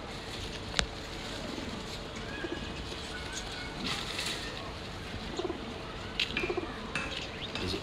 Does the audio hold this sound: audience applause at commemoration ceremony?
no